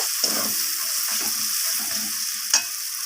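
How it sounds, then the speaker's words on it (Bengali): Ground cumin frying in a pan for chicken curry gives a steady sizzle, with a few scraping stirs and one sharper clink near the end, and no voice over it. "মশলাটাকে আমি নাড়াচাড়া করে নেব"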